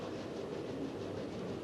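A train hauling up a steep mountain pass, a steady dense rumble of wheels and carriages with a faint rhythmic clatter, continuous and close.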